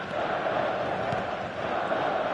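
Stadium crowd buzz from eFootball at Saitama Stadium: a steady, dense roar of a large crowd continuing evenly, with faint rising shouts inside the wash of noise.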